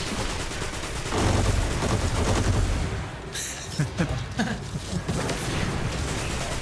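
Rapid machine-gun fire through a shield in the shooter Destiny: Rising, steady bursts then sharper separate shots near the end, loud and close with no talk over it.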